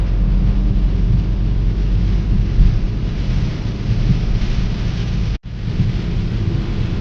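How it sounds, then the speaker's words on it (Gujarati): Very heavy rain pounds on a car driving slowly on the road to Diu, a loud, dense roar mixed with deep thunder rumble. It continues steadily apart from a momentary dropout near the end. "આમ તો જુઓ કેવો વરસાદ, માંડ કરીને ગાડી હાલે."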